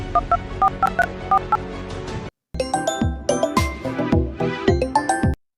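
A quick series of telephone dialing tones, short beeps pressed in a rapid, uneven rhythm, with a brief pause before another burst of keypresses.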